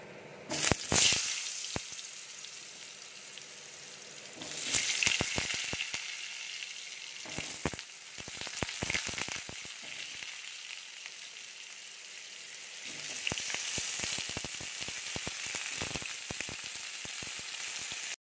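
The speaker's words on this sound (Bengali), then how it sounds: "তেলটা গরম হয়ে গেছে, আলুগুলো দিয়ে দেব" Potatoes for chicken curry drop into hot oil and sizzle loudly. The crackling surges in bursts, then settles into a steady fry between flare-ups.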